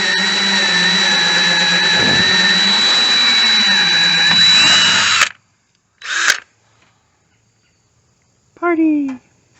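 A power drill bores out an off-center pilot hole in a DIY button box, a loud steady whine lasting about five seconds and then cutting off, followed by a few brief bursts of other noise.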